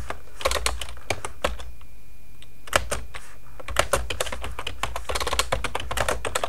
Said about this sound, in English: So from here we can just type in